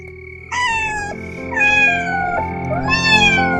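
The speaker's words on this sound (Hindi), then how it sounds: "बाहर किसी बिल्ली की चीख जैसी आवाज आई।" A cat lets out drawn-out, wailing screeches, several rising and falling cries in a row, loud and close, over a low steady hum.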